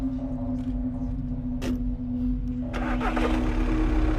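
A diesel engine running on fuel made from plastic waste cranks over with a steady rhythmic chug, catches after a short burst, and settles into a loud, even idle hum.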